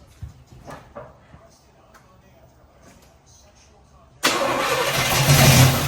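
A Chevrolet El Camino engine is started: after a few seconds of quiet with voices and scattered knocks, a loud, rough engine roar kicks in abruptly and holds steady to the end.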